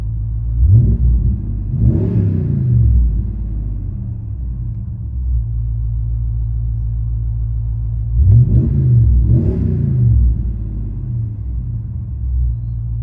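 A 2020 Ram 2500 with a 6.4L Hemi V8, Vibrant bottle muffler and rear resonator delete, heard from inside the cab: a deep steady idle rumble broken by two rising rev bursts that fall back to idle.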